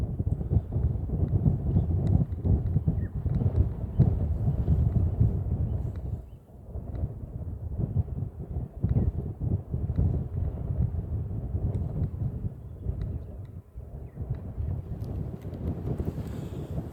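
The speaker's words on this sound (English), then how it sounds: "the wind has picked up quite a bit" Wind blowing hard outdoors on a cool day in the African bush, a loud continuous low rumble buffeting the microphone, briefly easing and then returning.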